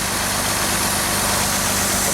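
An engine runs steadily while driving a grain auger during a white corn harvest, a constant loud droning hum with a low rumble and no change in pitch, close by and uninterrupted.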